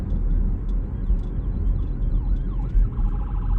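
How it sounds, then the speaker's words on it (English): An ambulance siren yelps faintly in the distance beneath loud, rumbling road and engine noise, its warbling rising and falling tones becoming a little clearer toward the end. "There's the ambulance."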